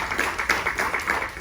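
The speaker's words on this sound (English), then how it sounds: "Let's give the team a round of" Scattered applause from a live audience at a cruise line panel discussion, a short, fairly close run of uneven claps.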